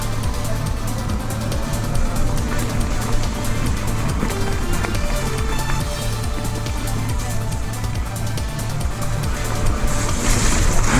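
Bafang Ultra M620 electric mountain bike motor on a trail eMTB runs steadily under throttle, a continuous low mechanical drone with wind and rolling noise, loud and close throughout.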